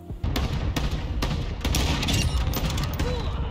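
A long-range gunshot in a video game cracks amid a dense, continuous spatter of battlefield gunfire, loud and close throughout the short stretch.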